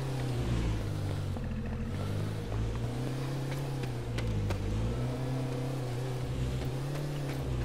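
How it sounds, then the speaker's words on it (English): A car driven in the video game H1Z1, its engine giving a steady droning hum with rising and falling revs throughout, moderately loud and heard with no talk. "I can't fucking see him, but I can hear him driving"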